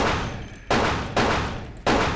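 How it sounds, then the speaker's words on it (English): Gunfire in the game Vampire The Masquerade Bloodlines: three loud, close shots, each a sharp blast with a decaying tail, spaced unevenly about half a second apart. "Loud gunfire?"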